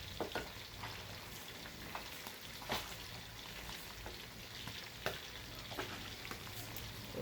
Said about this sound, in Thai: ค่อยๆ ทอดแล้วก็ค่อยๆกลับค่ะ